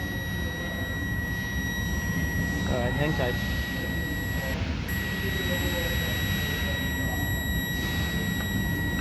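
Warning buzzer of a Nissan Sentra with a no-crank, no-start fault, steady high-pitched electronic tones running continuously under broadband engine-bay noise, with someone speaking briefly.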